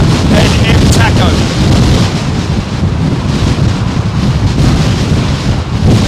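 Strong wind buffets the microphone at London Heathrow Airport, a loud continuous low roar with gusty surges throughout and no talk.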